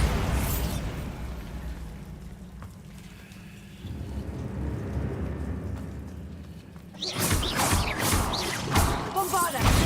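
A Bombarda blasting spell goes off in a Harry Potter video game, with low rumbling debris and crackle building into a loud, bright burst of shattering noise near the end.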